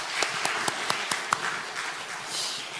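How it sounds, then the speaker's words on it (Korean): Brief applause from a church congregation, a few distinct claps in an irregular rhythm standing out over a dense broadband wash of clapping, moderately loud and steady for a few seconds with no talking. "예, 박수."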